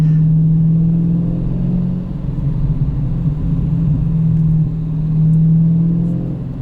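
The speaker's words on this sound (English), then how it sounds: "there's nothing like the sound of a big displacement V8." A 2019 Dodge Challenger Scat Pack T/A with a 392 big-displacement V8 idles close by, a deep, steady low throbbing drone that swells slightly and settles, with no other sounds.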